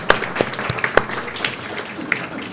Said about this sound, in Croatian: pozdravimo jednim aplauzom